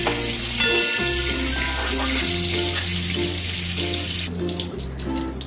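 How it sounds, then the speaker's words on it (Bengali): Steady sizzling and hissing of pointed gourd frying in hot oil over medium heat, loud and close, with a continuous low hum running underneath. "মিডিয়াম হিট করে ভেজে নিচ্ছি"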